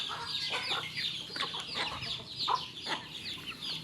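Several backyard chickens, both native and Texas breeds, cluck and squawk close by at morning feeding time, a busy overlapping series of calls with no talk.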